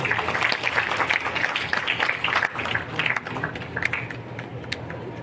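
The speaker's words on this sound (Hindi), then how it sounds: "जोरदार तालियां हो जाए आपके लिए।" Loud applause at a district education award ceremony in Bijapur, Chhattisgarh: many hands clapping in a thick, crackling burst that gradually thins out and softens toward the end.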